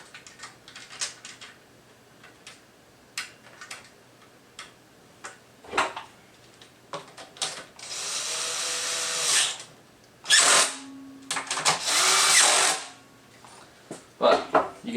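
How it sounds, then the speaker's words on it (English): A power tool drives bolts while a Vagabond Motorsports cargo rack is fitted to a 2017-2021 Honda Grom, with scattered clicks and handling noises before several loud, sustained whirring bursts up close. "especially a power tool."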